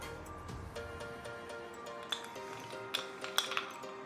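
Ice cubes clink faintly against a glass of watermelon juice: a few soft, bright taps near the end, over a quiet background with a steady tonal hum.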